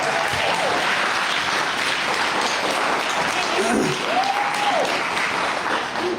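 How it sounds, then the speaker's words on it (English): Guests at a wedding celebration applaud the newly married couple, a sustained, even burst of crowd clapping throughout, with a few faint cheers or voices rising briefly in the middle. "Can we all give them a round of applause"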